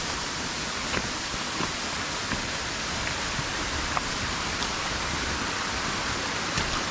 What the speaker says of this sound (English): That water's coming over and taking us away.